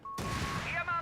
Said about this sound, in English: Panzer Pios narrowly dodge a gigantic rifle nade, blows up the entire munitions cache.